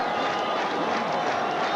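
Steady applause and crowd murmur from spectators at a 1982 Pakistan versus India Test cricket match in Karachi, greeting a batsman walking back to the pavilion, a continuous, moderately distant wash of clapping.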